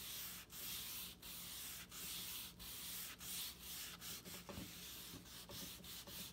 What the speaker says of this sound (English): So I use my smaller sandpaper, 220 grit, and I want to sand just right here